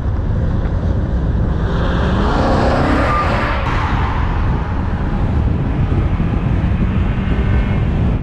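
A 1990s Mercedes E60 AMG drives with a steady, close engine drone under wind rush, the tone swelling gently as it accelerates mid-way.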